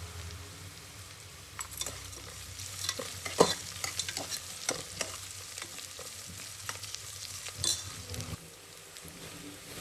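Onions sizzle and fry in a pan with salt while a spoon stirs and scrapes, giving irregular clattering strokes over a steady soft crackle, close and fairly quiet.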